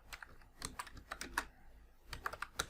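Quick, fairly quiet typing on a computer keyboard while entering a search into Google Chrome, a steady patter of individual key clicks with short pauses, no talking.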